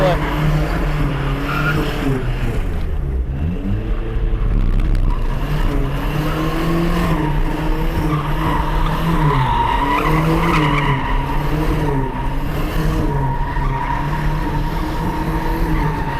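Tires squeal and skid continuously as a turbocharged truck slides, the engine note rising and falling beneath a loud, wavering screech that lasts throughout.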